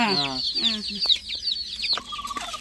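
Hens clucking on a village farm where eggs are being hatched, with repeated close clucks and squawks, a busy chorus of fowl calls early on and then scattered clucks over low background noise.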